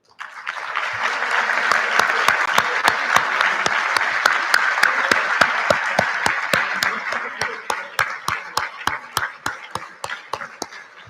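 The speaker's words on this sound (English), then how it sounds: "can I have the audience and our students please give a nice round of applause" A high school senior awards ceremony audience breaks into loud, full applause that swells quickly and holds for several seconds. A few sharp, close claps cut through the dense crowd clapping before it thins out toward the end.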